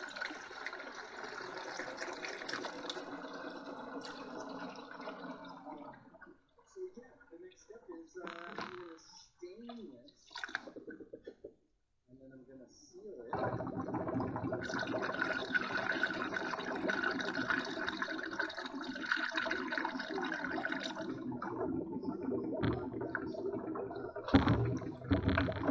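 Coolant poured into the cooling system of a Range Rover Classic during a thermostat and leak repair, gurgling and gushing in long stretches, with a quieter pause midway before the liquid surges again.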